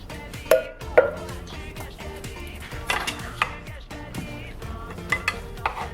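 Coconut milk stirred into a dish in a pot, with soft scraping and clinks of a utensil against cookware at an irregular rhythm, fairly faint and close.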